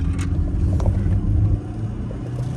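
Mercedes-Benz C-Class coupe with 114 horsepower braking and turning in at about 50 mph, a steady low engine and road rumble filling the cabin and easing slightly near the end.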